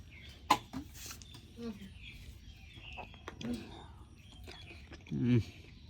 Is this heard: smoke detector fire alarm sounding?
no